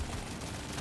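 Brief, loud burst of rapid minigun fire from the Deep Rock Galactic Survivor game, a dense rattling stream of shots with no speech.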